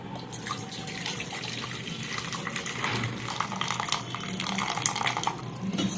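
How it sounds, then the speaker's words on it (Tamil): Continuous splashing and trickling of cooking water being drained off from a pot, close and steady for several seconds. "இப்போ வந்து இந்த தண்ணியை கொஞ்சம் லைட்டாக வடிச்சிக்குவோம்"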